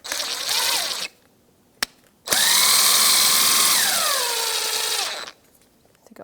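A power tool buzzes in short bursts, a brief run, a sharp click, then a longer whine that shifts pitch before cutting off, while a bolt comes out of a 2004-2009 Subaru Outback A/C belt tensioner pulley.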